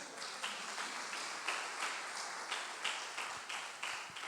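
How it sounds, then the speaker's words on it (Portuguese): Church congregation applauding: soft, rhythmic group clapping with a steady beat about three claps per second, heard from a distance. "As palmas para ele."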